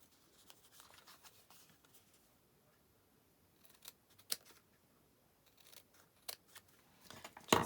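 Small scissors snip through foam dimensional adhesive pads during card making, giving a few quiet, crisp clicks spaced through a faint, near-silent tabletop background.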